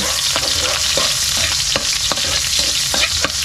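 Garlic and onion sauté in hot oil in a wok for Filipino fried rice, a loud, steady sizzle running throughout, with repeated scrapes and clinks of a spatula stirring close by.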